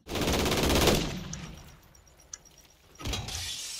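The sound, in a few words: JAK Burnout kit gun firing in a video game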